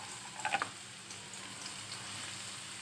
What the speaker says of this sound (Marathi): पॅन मध्ये तेल टाकलेलं आहे। आता आपण बारीक चिरलेला कांदा टाकणार आहोत